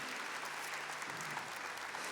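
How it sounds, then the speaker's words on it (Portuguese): A church congregation applauds the Canção Nova community of Aracaju at a religious healing and deliverance gathering, with steady, dense clapping that holds evenly throughout and no voice over it. "Vamos aplaudir a Canção Nova lá de Aracaju,"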